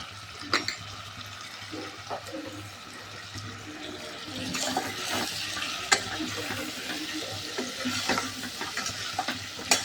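Chicken pieces with turmeric sauté in a pan for chicken biryani, giving a soft sizzle with scattered scrapes and clinks of stirring up close, and no voices.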